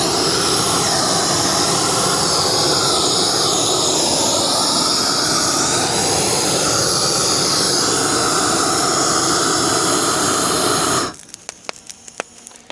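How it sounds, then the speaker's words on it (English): A brush fire burns close by with a dense, roaring crackle that holds loud and steady for about eleven seconds before cutting to quiet with scattered small pops. "I hear fire, y'all."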